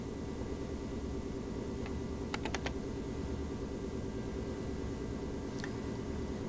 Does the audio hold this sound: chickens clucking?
no